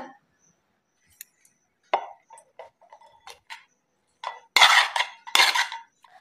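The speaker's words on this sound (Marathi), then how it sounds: "आता आपण याला एका बाउल मध्ये काढून घेऊया।" Spoonfuls of spicy onion chutney are scooped from a pan into a bowl, with scattered utensil clinks and scrapes early on, then two louder, denser scraping bursts near the end; no talking.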